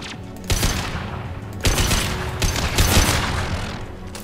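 Sustained bursts of gunfire from a Mass Effect 2 combat encounter, with three loud volleys of rapid rifle fire layered over a constant background of battle noise and no speech.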